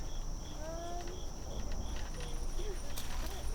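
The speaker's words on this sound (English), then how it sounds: "There's so many bugs." Outdoor insects in a dense, steady chorus, with a high continuous cricket-like trill and repeated chirps, fairly close and unbroken throughout, with faint voices in the background.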